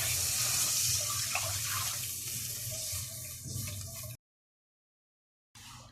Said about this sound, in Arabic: وهنزل بكوبايتين الميه